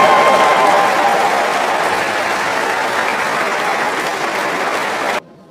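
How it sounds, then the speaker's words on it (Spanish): Church audience applauding steadily and loudly through a religious service, a dense continuous wash of clapping that holds for about five seconds before cutting off abruptly. "Un aplauso, Pepe."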